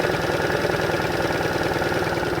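A motorcycle engine idles steadily and close, a continuous throbbing rumble with even pulses throughout, and no one speaks.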